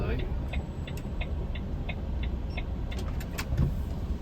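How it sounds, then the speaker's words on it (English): A car rolls past with a steady, close road rumble that stays level throughout, light repeated ticking over it and a voice audible. "Let this car go by."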